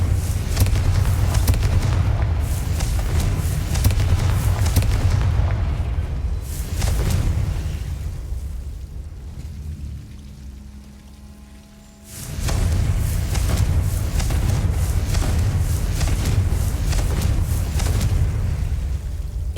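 Confringo fire-blast spells burst repeatedly in the Hogwarts Legacy video game, loud continuous explosive crackling with a quieter lull in the middle before the barrage resumes at full strength.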